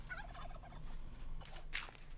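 Several turkeys in Minecraft's RLCraft mod gobble in quick warbling bursts, close by and fairly loud over a low steady background hum, with no talking.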